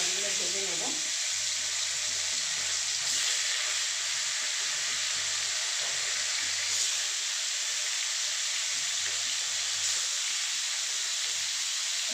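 Rupchanda fish fry in hot, smoking oil with a continuous hiss and crackle that holds steady the whole time. Low, indistinct sounds move faintly underneath.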